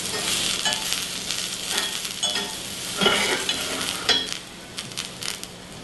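Tomatoes and summer beans sizzle steadily in a frying pan, with soft scraping stirs swelling periodically over the constant close hiss of the hot pan.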